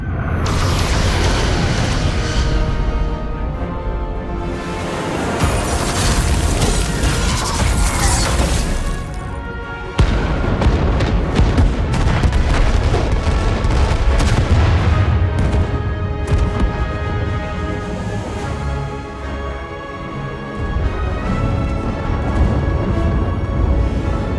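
Starship weapons pound an enemy ship in the Star Trek Resurgence video game, a dense, loud barrage of booming blasts and crashing impacts rolling on without pause.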